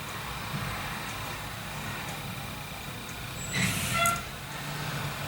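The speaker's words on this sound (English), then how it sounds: "Pause for the garbage truck." A garbage truck passing outside with a low steady engine rumble that swells briefly and ends in a short hissing air-brake release, then fades back to background.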